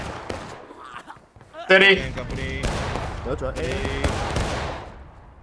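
Musket volleys ring out in the Civil War game War of Rights, with sharp, scattered cracks under an officer's shouted commands. Close, loud shots come in irregular bursts between the spoken orders.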